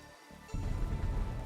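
Steady rain in the point-and-click game Darkside Detective 2 swells in after a brief quiet moment, a soft even hiss and patter that continues evenly to the end.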